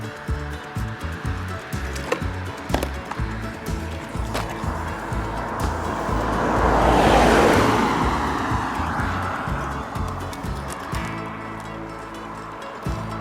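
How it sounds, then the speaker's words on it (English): A car passes outside during a hoverboard aluminium frame weld repair, its wash of noise swelling to a peak near the middle and fading away over a steady mechanical hum. "we're gonna go again because that car just ruined things"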